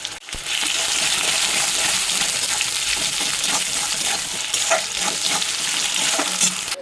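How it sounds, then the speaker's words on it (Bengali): Bitter gourd and potato frying in fish oil with ginger garlic paste, a loud, continuous close sizzle with scattered clinks and scrapes of stirring. "এর মধ্যে দিয়ে দেবো আমি আদা রসুন বাটা, এটাকে দিয়ে একটু ভালো করে ভেজে নেব।"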